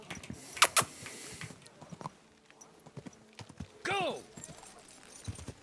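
Horse hooves clip-clop in rapid, irregular beats in the video game Kingdom Come: Deliverance 2, with a brief whinny midway and someone shouting a short command near the start.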